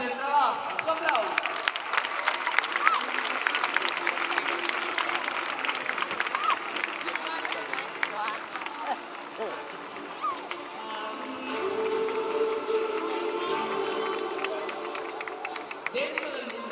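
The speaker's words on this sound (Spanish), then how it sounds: "Un reconocimiento a la dificultad del trabajo. ¡Un aplauso!" Crowd applause and scattered cheering at a medieval joust show in La Coruña, fairly distant and uneven, swelling and easing across the open arena with background chatter and voices mixed in.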